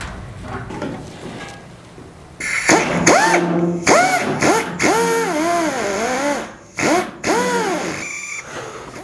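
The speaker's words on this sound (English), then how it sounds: "Before I start drilling holes" A power drill whirs in several short bursts while drilling holes in an RV-7A aircraft's tail surfaces, its pitch rising and falling as it spins up and slows, close by with brief pauses between runs.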